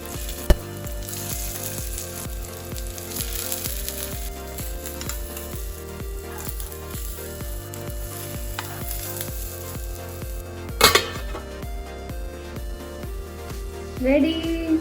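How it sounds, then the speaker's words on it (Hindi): Matar kebabs fry in a pan with a steady, soft sizzle and crackle that runs throughout, close by, with faint background music underneath and an occasional clink or stir. "अब हम इन्हें हल्का हल्का फ्राई कर लेते हैं"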